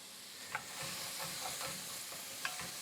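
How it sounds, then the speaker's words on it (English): Food being stirred in a pot over heat, with a steady sizzle under scraping strokes and a couple of sharp clinks against the pot's side. No one speaks. "right, into the pot. Give it a stir."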